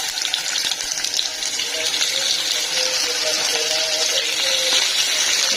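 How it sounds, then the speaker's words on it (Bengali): Pabda fish slides into hot oil and sizzles at once, a steady, bright, hissing crackle that holds level throughout, with a voice talking faintly underneath. "তো এখন হচ্ছে মাছটা দিয়ে দিলাম।"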